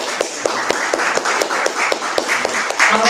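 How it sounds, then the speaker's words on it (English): A small workshop audience claps, a dozen or so quick irregular hand claps ringing close and fairly loud, building slightly toward the end. "Woo, round of applause."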